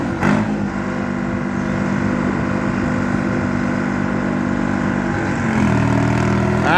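A diesel John Deere tractor at an antique power show pull roars loud and close with a steady, heavy engine drone that climbs in pitch near the end as it revs harder.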